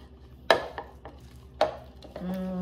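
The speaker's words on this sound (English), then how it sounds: "I'm going to go ahead and mix this up really well" Cold Mediterranean pasta salad being tossed in a bowl, a few distinct utensil clacks and scrapes spaced irregularly, close and crisp with no speech.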